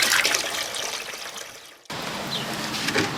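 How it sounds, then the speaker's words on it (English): About a gallon of water pours into a bucket holding a little bleach, a loud steady rushing splash with a brief dip midway before the flow resumes. "And then I'm going to put about a gallon of water in."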